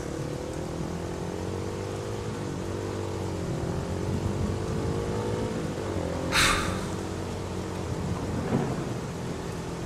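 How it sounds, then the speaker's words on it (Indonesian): Heavy rain pours steadily in a horror radio drama, a constant broadband wash with a low rumble of thunder beneath it and a sharp, bright crack breaking through midway, with no voices. "Air hujan cukup menghalangi pandanganku."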